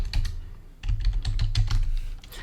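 Rapid clicking keystrokes on a computer keyboard while entering an Excel formula, a steady close burst of taps with a brief pause near the start, no voices.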